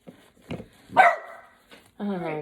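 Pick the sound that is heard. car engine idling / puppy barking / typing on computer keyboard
puppy barking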